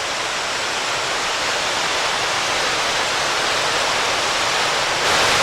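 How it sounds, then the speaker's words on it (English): Cascades and waterfalls on Scouten Brook give a steady, loud broadband rush of falling water, heard close and unbroken throughout with no voices. "we get a lot more of those cascades and waterfalls all the way up through there."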